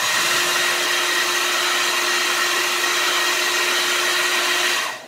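A handheld hair dryer heating electrical tape over a cracked flat-screen TV gives a loud, steady, close-up whirring roar with a constant hum that runs unbroken for about five seconds, then cuts off abruptly.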